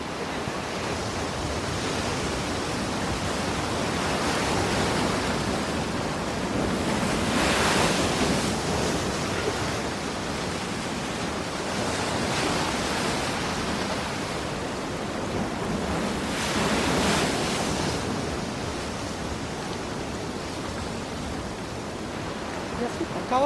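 Sea waves break on the shore in a continuous roar of surf and wind, with two stronger swells crashing louder partway through before settling back into a steady wash.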